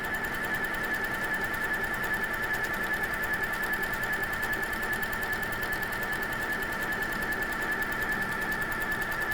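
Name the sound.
quilting machine stitching feathers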